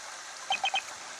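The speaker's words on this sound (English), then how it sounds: "I saw the chickens the beast had taken." Three short, quick clucks from chickens in the Professor Layton vs. Phoenix Wright Ace Attorney video game, evenly spaced over quiet background ambience.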